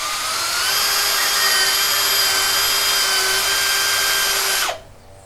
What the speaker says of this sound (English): So I'll continue drilling these holes in the piece of wood.